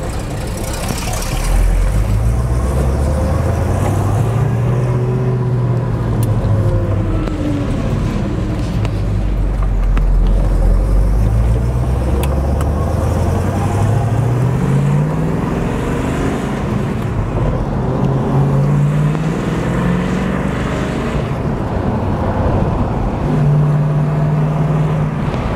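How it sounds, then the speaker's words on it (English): A 1976 Pontiac Trans Am with its 455 V8 and four-speed cruises along, its engine note loud and steady, rising and falling through gear changes and revs over the whole stretch with no speech. "The 455's got a great sound to it."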